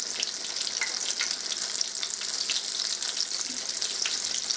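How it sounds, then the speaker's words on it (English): Breadcrumb-coated cod fillets fry in oil in a cast iron pan, giving a close, busy crackling sizzle with frequent sharp pops throughout and no talking. "we just cook them till they're golden brown on each side."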